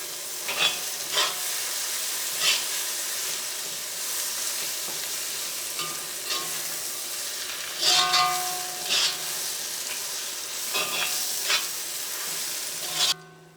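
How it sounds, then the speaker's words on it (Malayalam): A spoon stirs carrot pickle in a pan, with a soft continuous sizzle and recurring scraping strokes against the pan at an irregular rhythm, heard up close with no talking. "ഇതെല്ലാം കൂടി നന്നായിട്ടൊന്ന് മിക്സ് ചെയ്യാം."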